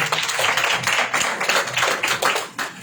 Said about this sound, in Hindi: भाई का एक जोरदार ताली से स्वागत हो जाए